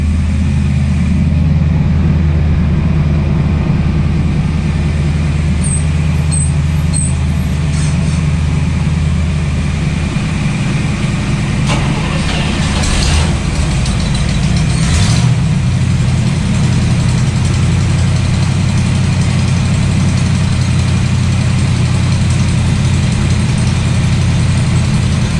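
A boat's starboard engine runs after a fuel filter change, a loud steady low idle rumble that holds throughout with slight shifts in tone and no talking.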